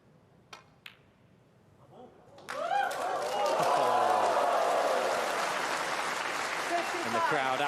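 Snooker crowd at the Xian Grand Prix semi-final bursts into sustained applause for Ronnie O'Sullivan's break, a few sharp taps first, then loud, dense clapping filling the hall.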